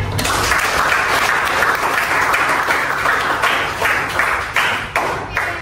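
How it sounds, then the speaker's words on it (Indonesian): Classroom applause during a guidance session, made of loud, dense clapping from a group of people. It holds steady for several seconds, then thins into a few separate claps toward the end. "Beri tepuk tangan."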